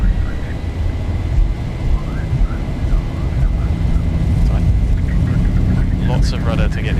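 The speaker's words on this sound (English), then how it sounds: "We've got stable engines, power," Boeing 737-800 jet engines spooling at takeoff power in the X-Plane 11 flight simulator, a continuous low rumbling roar with a faint whine, heard under a man's speech.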